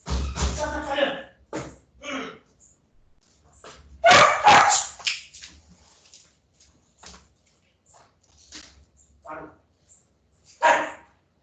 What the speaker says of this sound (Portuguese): meu cachorro surtou aqui